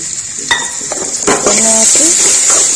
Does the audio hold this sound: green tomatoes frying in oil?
yes